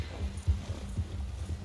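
A horse gallops in Red Dead Redemption 2, a few heavy low hoofbeats in quick uneven rhythm, close and moderately loud, with no talking.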